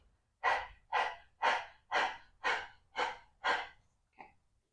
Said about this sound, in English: take a moment, stick your tongue out of your mouth and breathe heavily